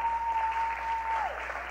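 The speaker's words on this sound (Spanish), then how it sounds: "denle un aplauso a Jesucristo, por favor." A church congregation claps steadily and densely throughout, a full wash of applause with a thin sustained whistle-like tone running over it.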